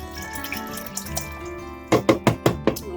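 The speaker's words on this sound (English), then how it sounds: "I've got some broth. I'm going to add the broth first." Broth is poured into a soup pot for chicken barley soup, a steady close liquid pour that ends in a few short, rhythmic splashing bursts.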